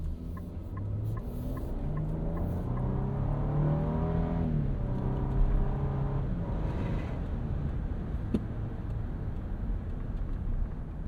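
A 2025 Nissan Armada SUV with a V6 engine and 9-speed automatic pulling out onto the road, steady engine hum rising in pitch through smooth gear changes, heard from inside the cabin with road rumble underneath.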